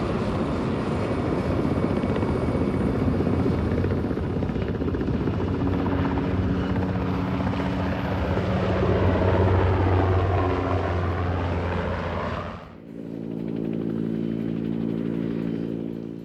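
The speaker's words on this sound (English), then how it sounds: "These helicopters are coming and going all day long when the cruise ships are in Juneau." Helicopters flying over Juneau, Alaska, during cruise ship season, giving a loud, steady rotor drone close overhead that suddenly drops near the end to a quieter, thinner hum as one passes away.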